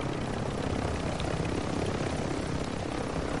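Helicopter in a video game with a continuous thudding rotor and engine roar, loud and steady throughout, no voices over it.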